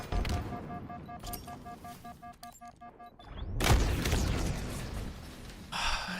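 A grenade blast in the Halo video game during a competitive scrim match, a loud broadband boom swelling mid-clip and trailing off, with game effects and tones beforehand.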